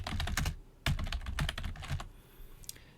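Fingers type on a computer keyboard in quick close bursts of clacking keystrokes, a brief pause and then a final few taps, with no talk.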